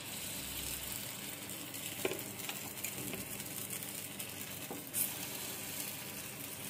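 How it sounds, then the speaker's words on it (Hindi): Appam batter spooned into a hot appe pan gives a steady, soft frying sizzle with a few brief clicks of the spoon. No voices. "इसके बाद इसमें 1-1 चम्मच घोल डालेंगे।"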